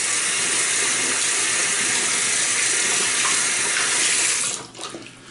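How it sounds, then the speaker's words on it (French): Tap water runs steadily into a sink while hands are rinsed during a traditional wet shave, a loud continuous splashing rush that stops abruptly near the end. "Rincer les mains."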